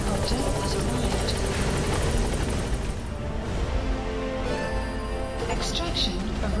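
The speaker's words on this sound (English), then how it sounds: "Support helicopter has arrived." Support helicopter in Metal Gear Solid V: The Phantom Pain, a loud continuous rotor drone and engine whine that holds steady throughout, with game voices speaking over it.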